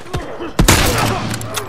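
Gunfire in The Last of Us Remastered video game, a sharp loud shot followed by a short rattling burst and fading echo, with faint talk beneath.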